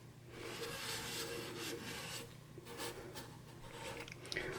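Pumice abrasive being rubbed into wood veneer coated with shellac during French polishing, a steady close scrubbing rasp that runs almost without pause, swelling and easing with each stroke.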